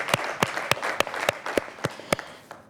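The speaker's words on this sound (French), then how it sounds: "avec les applaudissements." Audience applause at a French television presenter competition final, heard as a steady wash of clapping with sharp individual claps standing out at an irregular rhythm, moderately loud and without speech.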